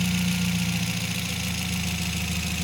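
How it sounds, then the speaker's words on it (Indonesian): A steady idling engine hums low and loud throughout, its note sagging slightly under the added electrical load of the main headlight being switched on, with no voices. "Lampu utama kedua nyala, mesin berasa banget turun sekali."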